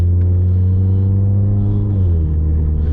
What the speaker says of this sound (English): That way the car resets that you're not using the pedal shifters, and the car's gonna shift by itself